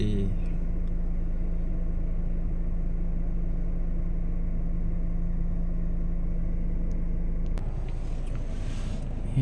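A car being driven, heard from inside as a steady low engine drone and road rumble that shifts slightly near the end.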